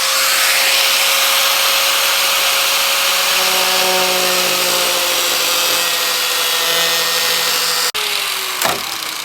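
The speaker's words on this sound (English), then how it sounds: "So Spoon's gonna take this section out right here because it's putting the manifold." A loud, continuous whine of a power tool cutting a section out of a car hood, steady and close for several seconds, then a sharp stop and a brief clatter at the end.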